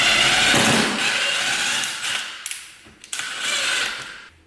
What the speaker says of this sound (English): We can then take a drill, back out the screw, and then drive it in just a little bit so that you don't lose those screws.